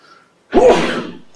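One loud, close human sneeze bursts out after a short quiet lead-in, then trails off in a breathy tail.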